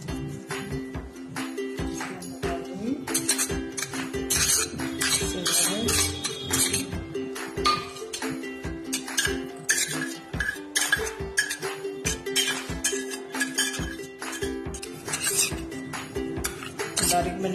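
Flour and cheese are mixed in a bowl for potato cheese balls, with repeated clinks and scrapes of a utensil against the bowl over a steady background hum. Someone talks now and then.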